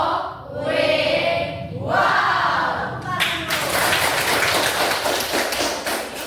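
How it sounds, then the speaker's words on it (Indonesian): A classroom of students performs a 'tepuk wow' cheer for a classmate: a long, drawn-out group shout of 'wow', then a dense burst of lively clapping with crowd noise that carries on for several seconds. "Kita berikan tepuk wow untuk Jason"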